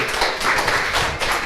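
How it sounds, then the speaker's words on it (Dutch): A live audience at a Maastricht literary show applauds for Mario, producing a steady, dense clapping that holds loud and even for the whole moment, with no voices on top. "Applaus voor Mario."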